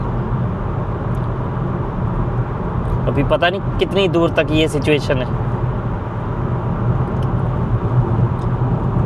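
Idling and creeping vehicles sit stalled in a motorway traffic jam after a crash, a steady low road rumble throughout while someone talks over it in the middle.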